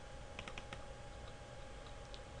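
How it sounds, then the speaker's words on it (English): Soft, quick keystrokes on a computer keyboard, a short run of light clicks heard faintly over a steady background hiss. "Type it using the keyboard or use double click."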